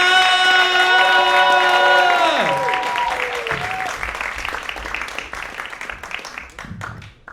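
A comedy audience in Malta breaks into loud applause and cheering with sustained whoops as the comedian takes the stage; the clapping is dense at first, then gradually thins and fades toward scattered claps.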